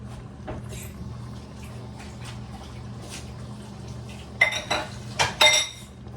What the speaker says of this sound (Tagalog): halo ko na yung gulay